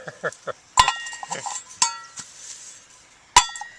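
A metal pan gets cleaned off by hand, with sharp metallic clinks and light scraping and three louder ringing strikes spaced apart, close and otherwise quiet.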